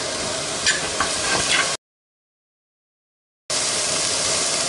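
Rehydrated mushrooms frying in a dry pan on the heat, a steady close sizzle with a few light stirring scrapes, broken by a short stretch of total silence before the sizzle resumes.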